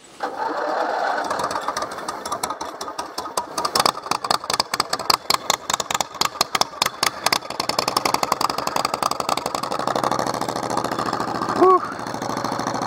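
An offroad vehicle, the Dynamonster, cranks and starts up, then runs with a rapid, loud, rhythmic engine chatter that steadies into a running drone, with a voice heard briefly.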